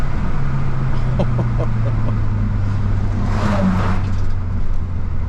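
A Mazda 3 MPS with a 260 hp 2.3-litre turbo engine drones loudly from inside the cabin as it climbs through the revs, with a steady low engine hum under the driving.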